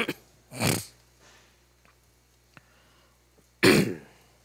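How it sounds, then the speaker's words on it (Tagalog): Two loud, close coughs, one near the start and one near the end, separated by near silence with a few faint clicks. "Sensya na kayo sa aking ubo"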